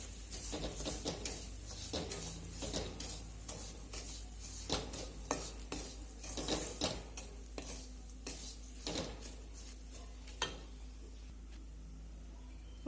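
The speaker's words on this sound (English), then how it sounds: "let's add our Bombay rava, that's 1 cup, and saute it. Mix it well with the seasoning." Bombay rava is stirred and sauteed with seasoning in a pan, a quiet run of scraping spoon strokes and soft clinks against the metal in an irregular rhythm over a faint sizzle.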